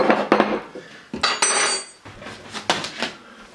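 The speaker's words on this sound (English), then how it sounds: "I'm going to mix this flour up" Seasoned flour with salt and pepper stirred in a bowl for portobello mushroom tots, giving close, sharp clinks and scraping taps of utensil against bowl in uneven bursts, with no talking.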